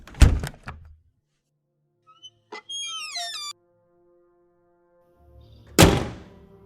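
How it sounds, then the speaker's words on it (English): A door bursts open and is thrown back in a spooky Halloween soundscape. A sharp, loud thunk opens the sequence, followed by quiet creaks and squeaky rising tones, then a second heavy thud with a short rumbling tail. "The door busted open and was thrown back"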